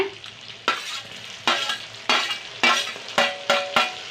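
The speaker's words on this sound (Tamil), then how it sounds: "பச்சை மிளகாவை போட்டுருங்க மிளகாய்த்தூளை போட்டுருங்க அந்த எண்ணெயிலேயே தக்காளியை போட்டுருங்க" Tomatoes, green chillies and chilli powder frying in hot oil for a Tamil anchovy fish curry, with a steady close sizzle and about seven sharp bursts of stirring in an irregular rhythm. No one speaks.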